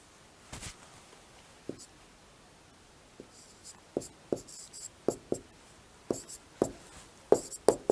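Scattered sharp taps and short scratchy strokes of writing on a board come in irregular bursts, growing more frequent toward the end, close and clear over a quiet room with no speech.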